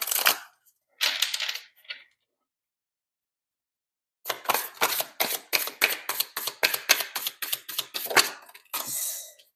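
Shozen Tarot cards being handled for a reading: a couple of short, crisp card flicks, a pause, then a long run of rapid, evenly spaced clicking riffles close by, with no speech.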